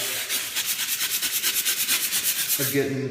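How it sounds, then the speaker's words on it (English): Wire brush scrubbed hard across a concrete floor to prep it for new flooring: fast, rhythmic back-and-forth rasping strokes, close and loud, with a faint voice at the end. "I also like these wire brushes. You can just put some pressure down, and it really does a good job"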